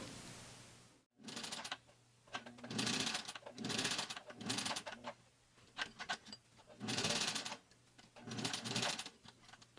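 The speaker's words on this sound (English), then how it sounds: "And we'll sew 1 or 2 lines to secure it." A home sewing machine stitches a stretchy knit fabric face mask, running in several short bursts of rapid mechanical whirring separated by brief pauses.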